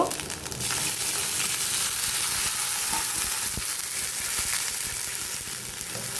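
Water goes into a pan of fried onion and ginger-garlic paste, which then sizzles loudly and steadily, with stirring scrapes and small knocks throughout.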